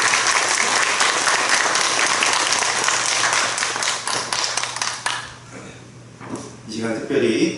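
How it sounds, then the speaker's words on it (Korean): A church congregation at a pastor ordination service breaks into loud, sustained applause, many hands clapping together for about five seconds before it thins out and fades, with voices following. "하나님께 영광의 박수 드리게 하나님께 감사드립니다."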